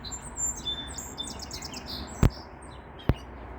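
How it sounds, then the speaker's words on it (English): Birds chirping outdoors in the morning: a flurry of quick, bright chirps and tweets early on, moderately near over a soft background hush, followed by two sharp isolated clicks or knocks. "The birds are very, very chatty this morning."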